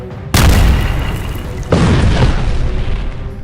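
Two heavy missile explosions strike targets one after another, each a loud deep boom with a long rumbling tail, the second arriving just over a second after the first.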